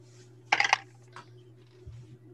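A brief clatter of dice rolled onto a table during a tabletop role-playing game session, a quick rattling burst with a faint second tumble after it, over low room hum.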